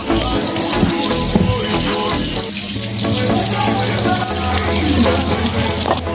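Cut carrot pieces washed under a running tap, a loud, steady gush of water splashing into a sink, continuous and close throughout.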